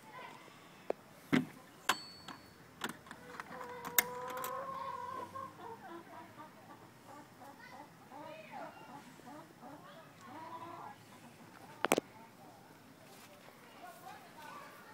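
Hens cluck softly and intermittently nearby, with a few scratching footsteps and sharp knocks, while a person talks quietly over them.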